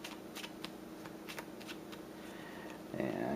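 A new deck of cards is shuffled for the Eldritch Horror board game, with a run of soft, irregular card flicks followed by a louder, fuller riffle near the end. The sound is close and has no talk over it.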